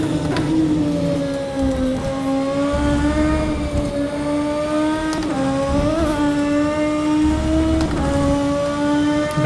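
A DTM race car in rFactor 2 laps Monza, its engine screaming loud and close through repeated upshifts and downshifts with rising and falling pitch, the tyres rumbling over an uneven track surface.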